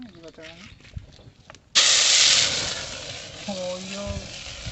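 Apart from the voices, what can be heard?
crushed ginger sizzling as it is added to hot oil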